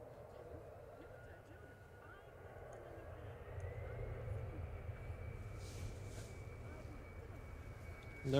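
A distant Airbus A319 takes off from Manchester Airport bound for Amsterdam, a steady low jet roar that swells gradually and holds, with faint background voices.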